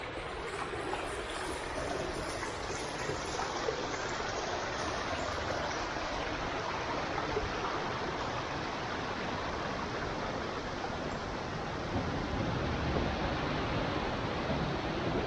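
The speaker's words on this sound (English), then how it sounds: "that stream behind me." A stream rushes steadily beside Vicarage Cliff near Morwenstow in Cornwall, giving a dense, unbroken wash of flowing water that holds close and even throughout with no voices.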